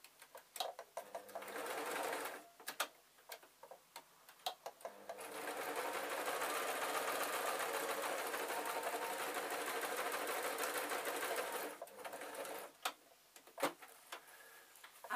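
A sewing machine stitching a fabric storage box, starting with short stop-and-go bursts, then running steadily for several seconds before more brief bursts. The stitching is close and fairly quiet, with no talking.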